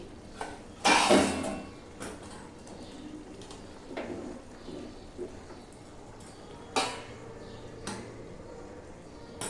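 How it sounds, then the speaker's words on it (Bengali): A lid is set on a pot of simmering moong dal with young jackfruit: a sharp metallic clatter near the start, then a few lighter knocks and clinks over a quiet kitchen background. "একটু ঢাকা দিয়ে দেই।"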